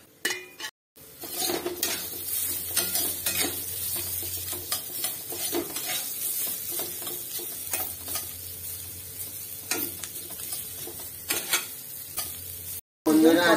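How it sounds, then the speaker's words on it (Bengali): Pointed gourd (potol) fries in a pan for a Ranna Pujo meal, with a continuous close sizzle, repeated scraping stirs and metal clinks of a spatula against the pan, and brief pauses between. "পটল ভাজা হচ্ছে"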